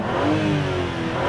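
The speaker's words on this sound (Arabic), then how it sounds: "رح نحط لاود اكزوست واسمعوا معي صوت السيمفونيه الرائعه" A 2021 BMW M3/M4 with a loud exhaust revs hard on a race track, a steady close, loud rising engine roar with no talking.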